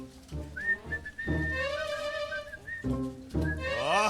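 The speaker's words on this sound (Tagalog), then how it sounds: "Hoy, sumisipol-sipol ka." A person whistles a sustained tune in short melodic phrases, fairly close and clear, with voices briefly speaking between the notes.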